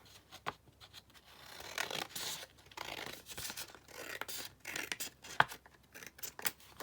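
Scissors cut through paper for a junk journal page, with a run of close, crisp snips and rustling paper, each snip irregularly spaced and sharp, heard alone without talking.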